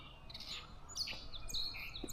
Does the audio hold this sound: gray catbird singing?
yes